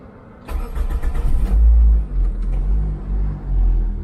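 A cheap used car's engine cranks and catches after a short pause, then settles into a deep, uneven rumbling idle close by, with heavy vibration.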